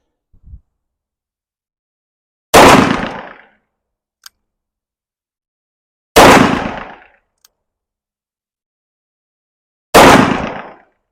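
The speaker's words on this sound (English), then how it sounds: "Okay, there's 3 shots." Three loud, sharp gunshots from a Taurus 692 revolver ring out several seconds apart, each with a short decaying echo across silence and faint small clicks between.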